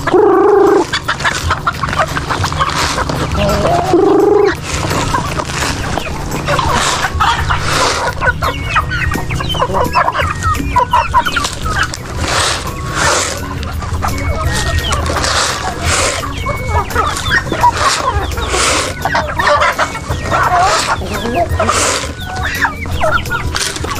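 Chickens on a small Filipino farm cluck steadily while being fed corn, a turkey nearby, with dense overlapping clucks and calls throughout, close and loud, and occasional voices underneath.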